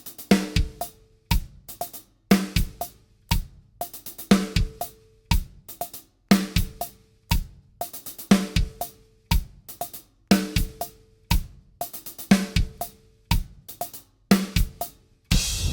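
A trap hi-hat pattern mixing quarter, 16th and 8th notes over a two-measure electronic beat, with crisp ticking hats in shifting rolls against steady kick and snare hits, looping cleanly with no voices.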